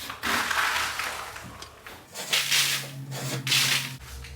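A scraper drags over wet popcorn ceiling texture in a farmhouse renovation, making repeated soft rasping strokes that are close and moderately loud, with no talk.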